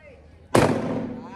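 A firecracker bursts once with a sharp, loud bang midway, its crackling echo trailing off over faint background noise.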